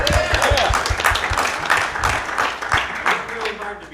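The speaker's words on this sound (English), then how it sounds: "let's give him a round of applause" A panel audience claps for an arriving speaker, a lively, uneven spatter of hands mixed with voices and chatter, loud and close throughout.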